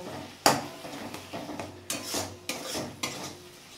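A spice masala with poppy seed paste is sautéed in a pan, with repeated sharp scraping strokes of a spoon against metal at a steady rhythm over a soft, low sizzle, close by.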